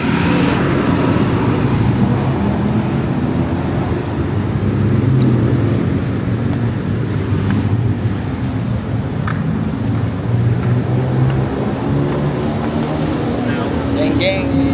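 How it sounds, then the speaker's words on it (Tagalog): Bangkok street traffic rumbles as a steady, loud wash of car and bus engines with road noise, continuous for the whole stretch, with voices talking over it. "The famous Bangkok traffic."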